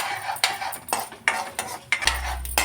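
Urad dal and mustard seeds frying in a pan while a metal spoon scrapes and stirs, sharp repeated clinks over a soft sizzle, close and alone.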